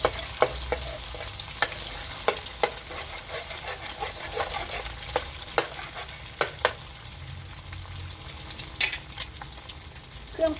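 Egg sizzles steadily in a hot pan for glass noodle stir-fry while a utensil spreads it around, with sharp scraping clicks and taps against the pan over continuous frying hiss, no talking.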